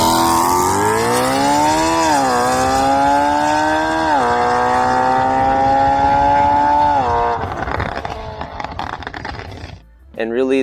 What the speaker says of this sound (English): you can hear exhaust noise when you want